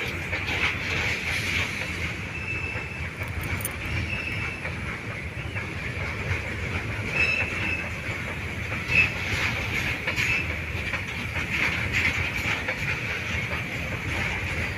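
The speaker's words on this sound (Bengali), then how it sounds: "মালগাড়ি এতক্ষণ এখানে দাঁড়িয়েছিল তো আমরাও ভিডিও বানিয়ে নিলাম দেখো কত বড় মালগাড়িটা তেলের ট্যাঙ্কি কত বড়" A long freight train of oil tank wagons rolling past, a steady loud rumble with clickety-clack from the wheels, faint squealing and a constant hiss that lasts throughout.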